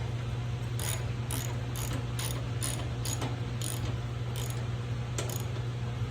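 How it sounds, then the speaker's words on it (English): Hand ratchet driving steel fasteners into an aluminum mower deck, about ten quick clicking bursts in a loose rhythm over a low steady hum, close and clear. "I don't want to strip those threads, so I'm just, using a ratchet,"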